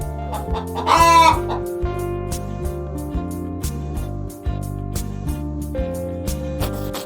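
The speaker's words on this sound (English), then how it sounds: "H for hen." A hen clucks in a children's alphabet drawing cartoon, with a sharp cluck burst near the start and a bouncy, repetitive music track underneath.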